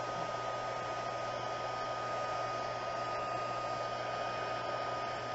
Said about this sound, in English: So let me unplug my heat gun.